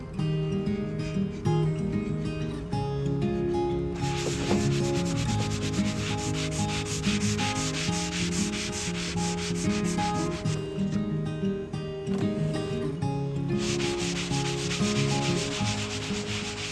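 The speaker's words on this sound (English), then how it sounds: "sand that down smooth with 220 grit." Sandpaper of 220 grit rubs steadily over a primed wooden chest of drawers, a continuous close, gritty scratching with brief changes in stroke and no speech.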